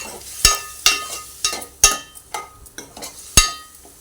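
Cashews are fried in a pan, with a spoon scraping and clinking in distinct strokes about every half second over a faint sizzle.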